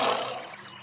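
A lion gives a short, loud, breathy roar that swells at once and fades within a second, heard alone with no talking.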